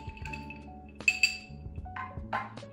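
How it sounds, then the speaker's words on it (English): Regular ice cubes clinking against glass while an old fashioned cocktail is stirred, with a few faint, light clinks and taps over a low background hum. "so I'm just gonna use regular ice cubes. We'll get those in there, stir it one more time,"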